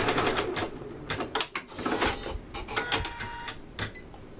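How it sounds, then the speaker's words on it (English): A sewing machine stitches a onesie held in an easy frame, a busy run of rapid mechanical needle clatter with short pauses and bursts, close and steady throughout. "You can see it's sewing quite well."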